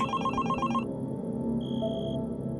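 A telephone rings with a repeating electronic ringtone, a fast warbling trill that stops after about a second, then a brief higher electronic tone; a sound effect in a Spanish-language horror story podcast, loud and close, with no voices.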